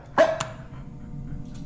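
A dog barks in a horror video game: one sharp, loud bark near the start, then a second shorter yelp, followed by a low rumbling background.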